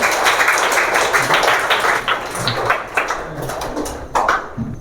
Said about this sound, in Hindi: सर लोग के लिए एक जोरदार तालियां बजाइए आप लोग